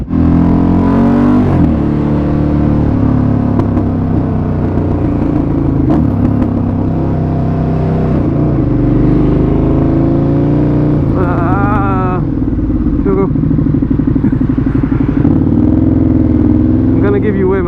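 A KTM Superduke 1290 R motorcycle engine rumbles and revs close by, blipping up several times over a steady idle, while voices talk over it throughout.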